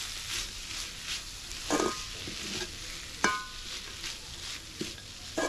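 Banana flower stir-fry with grated coconut is stirred in a pan, with soft sizzling and several distinct scraping knocks of the spoon against the pan, close and unaccompanied by speech.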